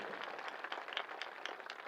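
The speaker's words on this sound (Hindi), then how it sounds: "तो एक बार देवरिया जिले के लिए एक जोरदार ताली आप लोग बजा करके अपना स्वागत जरूर करें।" An audience at a community education event in Deoria district claps together, making a dense, steady patter of many hands. The applause sounds faint and somewhat distant and continues without a break.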